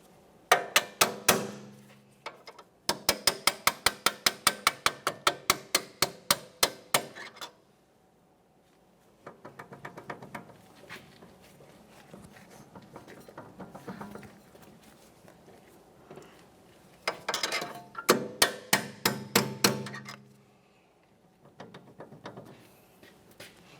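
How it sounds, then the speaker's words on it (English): Hammer blows striking a metal punch to drive out a CV axle on a 1994-1997 Honda Accord, fast repeated bursts, several volleys of sharp metallic taps separated by short pauses, close by. "you may need to use a hammer and a punch to drive this out of here."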